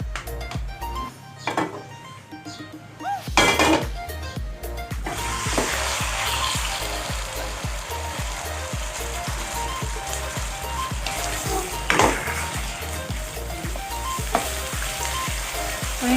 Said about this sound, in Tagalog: I-stir fry natin itong chicken.